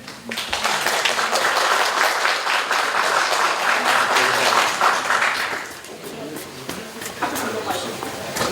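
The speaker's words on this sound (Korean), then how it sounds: "박수로 맞이해." An indoor lecture audience applauds to welcome a speaker, dense sustained clapping that fades after about five seconds into scattered claps with murmuring voices.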